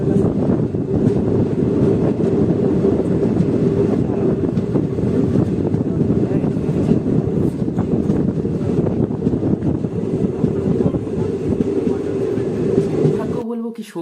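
A train runs on the line toward Siliguri on the way to Darjeeling with a loud, steady rumble and rushing wind noise that continues unbroken before cutting off abruptly at the end.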